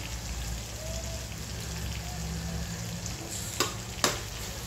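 Drumstick curry with coriander powder, Kashmiri chilli powder, goda masala and homemade black chilli powder sautés in a pan with a dense, even sizzle, broken by two sharp spatula clacks near the end, heard close with no voices.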